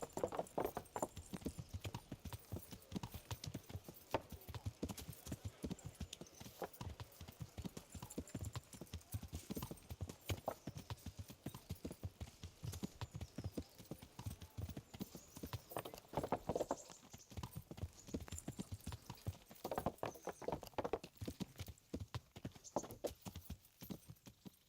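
Horse hooves clip-clop steadily at close range throughout, a brisk unbroken rhythm of clattering steps in a medieval video game, with occasional louder bursts and a brief faint whinny.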